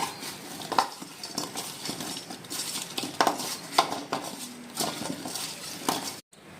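Two potatoes are mixed with spices in a metal pot or bowl, giving close, irregular clinks and scrapes of a utensil against metal, with soft stirring between the knocks.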